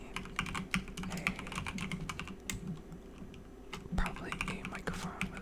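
Keystrokes clatter on an old, worn computer keyboard in quick, uneven bursts with brief pauses, close and crisp, carrying on through the whole stretch.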